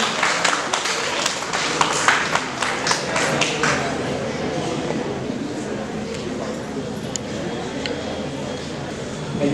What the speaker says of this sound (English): Let's give him a huge big round of applause.